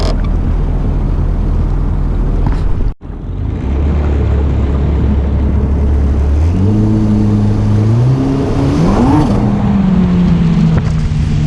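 An FX SHO on a speed run roars with a loud, constant rushing drone, then its engine note climbs steadily as it accelerates and the pitch rises toward the end.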